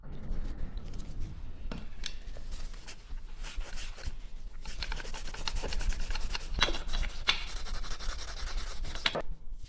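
Steady rough rubbing and rasping of polishing and grinding on the rusty, pitted outer surface of a WWII Kar98k rifle barrel under restoration, repeating abrasive strokes close by with a few sharper scrapes.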